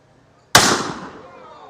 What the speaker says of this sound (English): the cannon she be a mite loud, and the gunner's aim be a mite poor